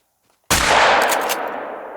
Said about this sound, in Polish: A czwarty idzie blisko, więc mogę go od razu strzelać.